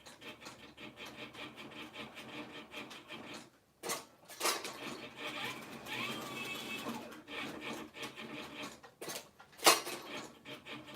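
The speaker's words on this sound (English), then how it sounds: "need to sharpen the knife" A dull leathercraft knife being sharpened, giving repeated dry rubbing and rasping strokes against a sharpening surface, with a few louder scraping bursts near the middle and end; no talking.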